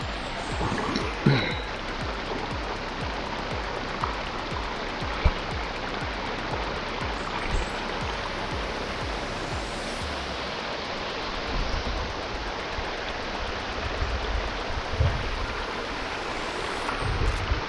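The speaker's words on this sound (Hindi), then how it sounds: "ये रहा झरना" Mountain waterfall stream in Darma Valley, a steady broadband rush of falling water, close and continuous, with faint brief voices in the background.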